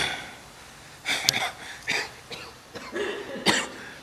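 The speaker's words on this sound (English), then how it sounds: "It's like I'm coughing up blood and shit." A man coughs hard and hacks to clear his throat during a gym workout between lifting sets, several rough bursts spread over a few seconds with no talking.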